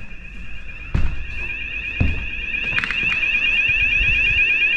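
A shrill electronic alarm tone from a Luminite ALERTEX wireless lockdown alert unit sounds continuously, joined by a second unit partway through, with a few knocks and thuds nearby.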